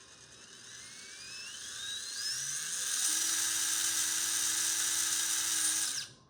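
A small brushless motor on an SCX24 crawler running on a 2S battery whines as it spins up, the pitch rising over several seconds into a steady high electric hum before cutting off abruptly, close and fairly quiet.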